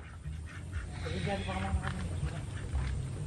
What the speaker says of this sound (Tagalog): Hanapin yung itik ko.